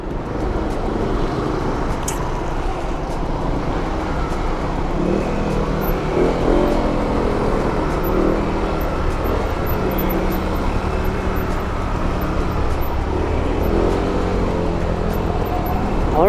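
A Honda Winner X motorcycle ridden through city traffic, heard as a continuous engine and road hum with passing vehicle noise around it, moderately loud and steady throughout.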